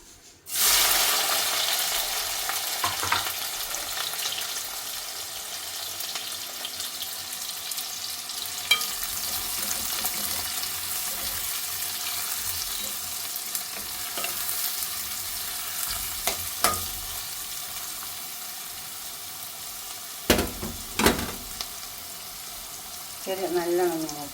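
Crushed small shallots and a chopped onion fry in hot oil for a chicken masala curry, giving a steady close sizzle throughout with a few stirring clatters and clicks toward the end.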